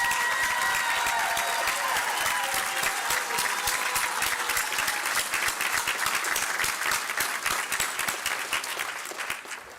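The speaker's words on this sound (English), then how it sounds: "we need one more round of applause," A large commencement audience claps in a long, full round of applause, dense and steady, with sharp individual claps and a few cheers, gradually tapering off near the end.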